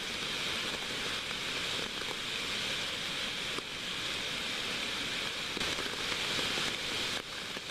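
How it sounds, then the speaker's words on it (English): Steady rain patters continuously on the woods in Maine in a dense, even hiss, with a few slightly louder drips standing out now and then. "it's still raining this morning"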